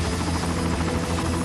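A Jet Ranger executive helicopter flies overhead with a steady, loud rotor thrum and a whining turbine drone that stays constant and close throughout.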